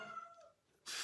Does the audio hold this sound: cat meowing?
yes